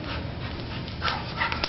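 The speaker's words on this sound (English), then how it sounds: "Somebody barking." A dog gives short whimpering yips and barks indoors, close by and steady across the brief moment, with no talking over it.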